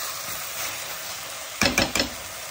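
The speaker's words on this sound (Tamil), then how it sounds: "இது நல்லா வதங்கிடும்." Food sautés with a faint, steady sizzle in a pan, and a quick burst of three stirring scrapes comes near the end.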